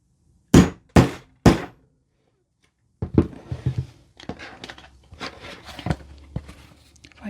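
A punch is hammered through a journal with three sharp, evenly spaced blows, then a pause, followed by softer rustling, tapping and handling noises at close range.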